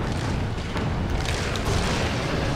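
Magnum revolver fired in Resident Evil 4 during the fight against Sadler, a dense sustained boom with low rumble filling the short moment, loud and close, with no single sharp crack standing out.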